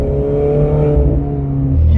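A Ferrari engine revs loudly and close by, its deep exhaust note holding steady and then climbing toward the end of a short burst, with no talking.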